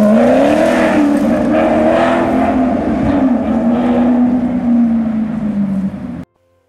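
Maserati 4.7-liter naturally aspirated V8 revving loud and close, a sustained rising and falling engine note that holds for about six seconds before cutting off abruptly.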